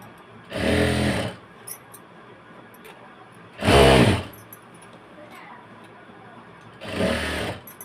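Three separate bursts of a sewing machine stitching, each running about a second with a dense mechanical whir, separated by quiet gaps.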